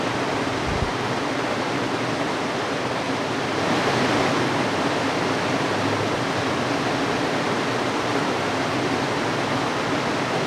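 Floodwater after heavy rain rushes in a constant loud roar, a dense, even wash of noise that never lets up, with no voices.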